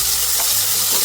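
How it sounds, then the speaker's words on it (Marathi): Slurry batter frying in hot oil for a biryani dish, a steady close sizzle with soft bubbling crackle throughout, loud and continuous without any voices. "आता आपण मस्तपैकी ही स्लरी बनवलेली फ्राय करून घेऊ."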